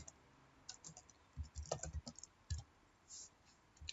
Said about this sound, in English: That means I can type something here.